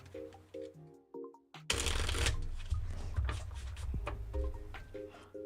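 Tarot cards being shuffled by hand at a table, a dense riffling burst followed by softer repeated shuffles, close and clear over faint background music.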